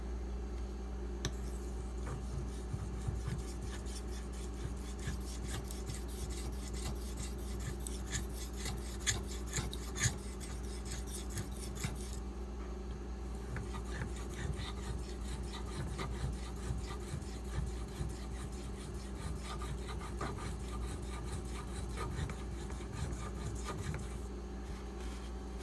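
A knife with a convexed edge is worked on a sharpening stone, a continuous run of close, quiet rasping strokes repeated steadily over a faint background hum, with no voices.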